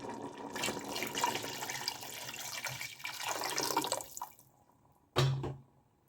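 Strained harira soup pours and splashes as the liquid runs through. The wet, rushing flow rises and falls, goes nearly quiet, then ends in one short loud splash near the end.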